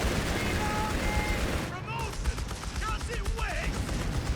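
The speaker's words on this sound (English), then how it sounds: "The Australians are getting absolutely mowed down here by the Flak Panzer" Flak Panzer gunfire in Company of Heroes 3, a dense roar of rapid automatic fire mixed with battle noise. Someone talks over it.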